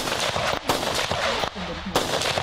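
Tourists fire guns in a shooting war game in Vietnam, with loud, close, sharp gunshot cracks repeated in quick succession and a voice briefly heard among them.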